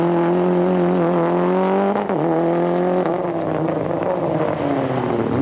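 A Renault rally car driving on a wet stage, engine droning loudly and close with a rising pitch, dipping briefly mid-clip before climbing again under acceleration.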